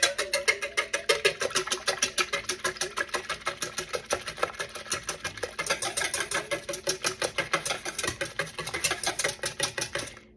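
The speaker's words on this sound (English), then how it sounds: "And I'm just whisking that together." Egg mixture and milk are whisked steadily in a bowl, producing a fast, even stream of close ticking and scraping strokes that continues for about ten seconds without speech.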